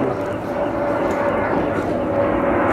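An airplane drones overhead in a steady, continuous rumble that holds for the whole stretch, with people talking close by over it.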